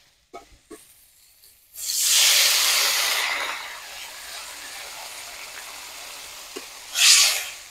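Water poured into a hot pan of Bengali-style eggplant curry sets off a loud rushing hiss that fades over a couple of seconds, followed by a second short burst of hissing near the end, after a few quiet knocks.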